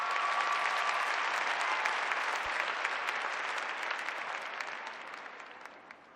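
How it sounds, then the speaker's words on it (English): A VFL football crowd at a traditional ground roars and claps after a kick, a dense, loud wall of cheering that swells and then slowly fades over several seconds. "The crowd noise tells you all you need to know"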